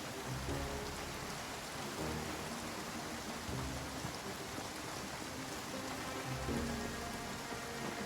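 Steady rain falls in the video game Project Zomboid, a continuous dense hiss with faint low rumbles underneath, moderately quiet and unbroken.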